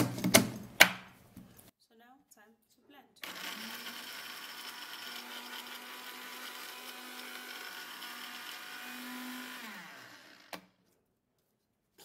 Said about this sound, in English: I'll grab my blender and blend it without putting in any water.